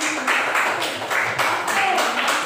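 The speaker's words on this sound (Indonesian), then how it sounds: "Mari kita berikan tepuk tangan dulu." Students in a junior high classroom clap together on their teacher's cue, bursts of hand-clapping close by in an uneven rhythm with a few voices underneath.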